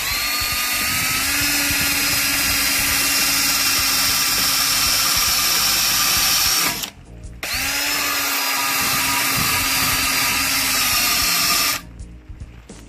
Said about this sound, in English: we're going to give this soft brush a try